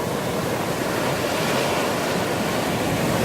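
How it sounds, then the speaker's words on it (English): Ocean surf washes onto the beach at Bodega Bay in a steady, loud, broadband rush with wind buffeting the microphone and no voices. "The water's coming the way."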